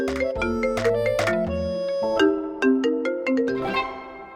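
A phone ringtone for an incoming call plays a bright, looping electronic melody of rising and falling tones, loud and close, with no talking.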